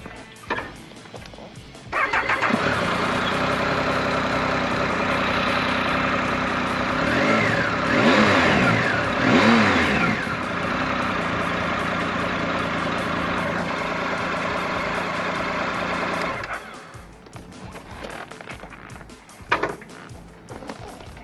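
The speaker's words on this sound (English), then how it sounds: "Now exhaust note is always something that's very hard to catch on the audio." A 2016 Triumph Tiger Sport motorcycle idles nearby with a smooth, fairly quiet engine and exhaust hum. It rises and falls through a few brief revs in the middle, then cuts off and leaves near silence.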